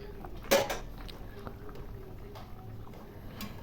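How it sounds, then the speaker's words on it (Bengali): Pieces of rohu fish go into a simmering curry broth with potato in a pot, a brief splash and clatter near the start, then a low bubbling simmer with small knocks, faint and close. "ঝোল ফুটে গেছে এখন আমি মাছগুলো দিয়ে দিলাম"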